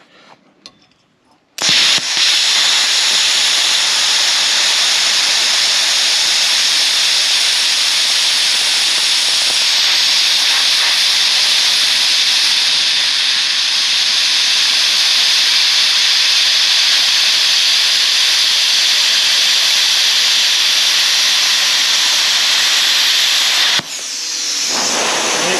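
A Hynade HYC550DP pilot arc plasma cutter cuts steadily, a loud continuous hiss and roar that starts abruptly and runs unbroken for over twenty seconds before cutting off.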